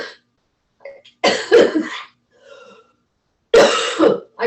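Two bursts of harsh coughing separated by a short pause, with a faint throat sound in between; close and fairly loud, no talking.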